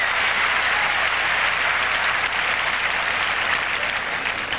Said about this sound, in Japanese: 今のエースで久しぶりにスタンドから大きな拍手が沸きました